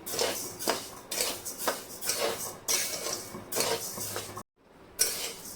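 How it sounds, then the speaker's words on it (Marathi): A metal spatula scrapes and clatters in a heavy-bottomed kadhai while rice is dry-roasted. Repeated rhythmic scraping strokes come up close, broken by a brief silence near the end. "तांदूळ छान भाजून झाले एक पाच मिनटं मी छान भाजून घेतले"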